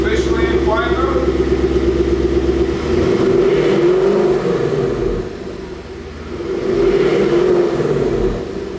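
A 2018-2021 Ford Mustang GT with its exhaust in quiet mode is revved to about 3,000 RPM, producing a muffled, restrained engine drone that rises and falls in two broad swells over a steady idle.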